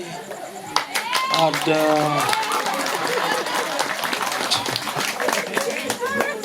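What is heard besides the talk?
clapping and applause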